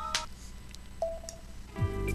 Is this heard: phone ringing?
yes